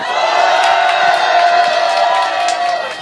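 A crowd at an outdoor Korean rally cheers and shouts in one dense, loud, sustained roar for a few seconds, with a few whoops poking through before it eases off slightly at the end.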